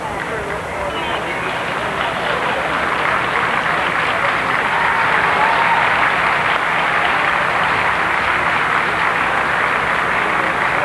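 A large outdoor crowd greets Queen Elizabeth II in Halifax, Nova Scotia, as her motorcade departs, with sustained loud applause and cheering mixed with hubbub and babble that holds steady throughout.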